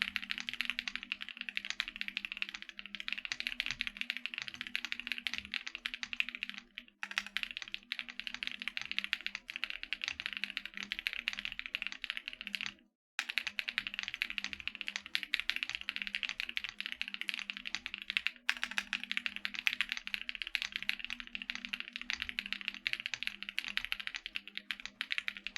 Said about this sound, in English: Your keyboard is thocky? I would say, yeah. I'd say it's pretty thocky.